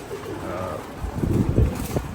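Pigeons in a loft, many of them sitting on eggs, give soft low cooing after being fed, mixed with close muffled thumps and shuffling that grow louder toward the end.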